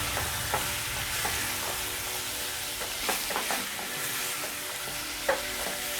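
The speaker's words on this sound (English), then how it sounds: "Give it a good stir." Liver stew with green and red peppers being stirred in a hot pan, with a steady sizzle and frying crackle under repeated scraping and clinking strokes of a spoon against the pan.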